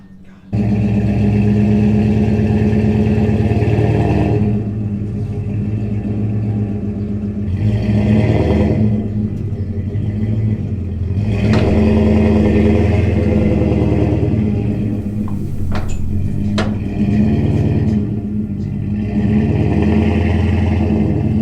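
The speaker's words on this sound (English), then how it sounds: "we'll hook the baler up to the truck and we'll take the baler over to the barn" A pickup truck's engine idles and revs while hauling a hay baler on a farm road toward a barn. The steady, loud engine drone rises in several surges, with clattering and rattling from the towed baler.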